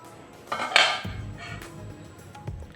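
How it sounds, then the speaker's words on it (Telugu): A metal plate used as a lid clatters onto a pan of cooking semolina, a bright scraping clank followed by a softer settling knock, close and alone. "ఒకసారి ప్లేట్ మూతేసుకుందాం."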